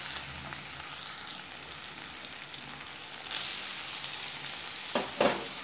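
Capsicum is added to cooked tomatoes and fried for paneer bhurji, producing a steady close sizzle with brief scraping stir noises and a few sharper clatters near the end.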